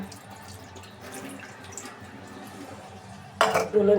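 Running tap water splashes over fish being washed at a sink, a soft continuous trickle with drips, then a sudden louder gush near the end, while a person talks over it.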